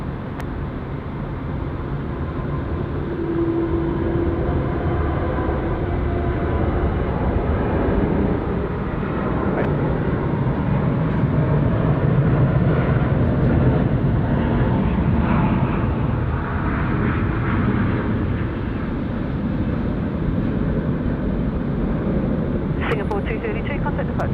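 An airliner lands on runway 34 left at Sydney Airport, a steady broad roar of jet engine and rushing air sustained throughout, with talk over it.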